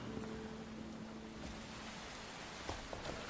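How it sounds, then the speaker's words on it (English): Soft, steady rain hisses quietly and continuously, with a few light ticks of drops, in the video game Enshrouded. "the rain in this game is so peaceful"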